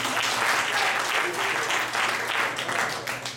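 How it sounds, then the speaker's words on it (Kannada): Audience clapping at a Kannada community music evening held by Hoysala Kannada Koota, a dense, sustained round of applause from a crowd, steady and fairly close, filling the whole moment without speech. "ಅದಕ್ಕೊಂದು ದೊಡ್ಡ ಚಪ್ಪಾಳೆ ಹಾಕಿ."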